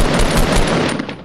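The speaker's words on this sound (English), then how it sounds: "I just shot someone." Rapid, loud gunfire from the Fortnite video game, a dense burst of close shots filling the short moment.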